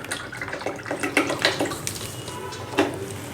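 Water measured in a cup is poured onto sugar in a pan to make syrup for sweet potato pantua, a close splashing, trickling pour with uneven gurgles and a few louder splashes.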